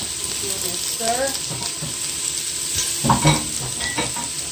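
Carrots stirred in a pot for chicken noodle soup, a close sizzling bubble with scraping stirs and a few clinks, while soft background voices are also faintly present.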